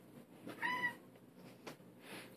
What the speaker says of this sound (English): Here's my YouTube cat, Groucho, knocking over the zoom spout.